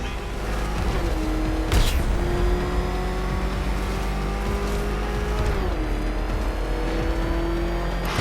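The Batmobile engine in Batman: Arkham Knight, a loud, steady drone with a sharp burst near two seconds and pitch shifts as it speeds along.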